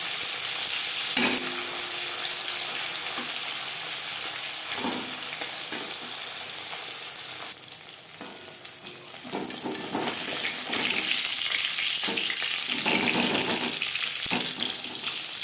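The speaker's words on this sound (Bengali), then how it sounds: "ভাজা হয়ে গেলে অপর সাইডটা উল্টে দেবো। মাছ আমি হালকা করে ভেজে নিলাম।" Bata fish frying in oil makes a continuous moderate sizzle with scattered crackles and sharper spits, swelling louder toward the end.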